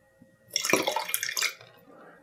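Water pours from a large cup in a short splashy burst lasting about a second, close and moderately loud, then trickles off into quiet.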